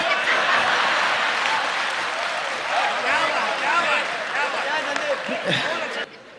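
Audience applause fills a poetry gathering (kavi sammelan), steady and fairly loud, with voices audible through the clapping before it cuts off near the end.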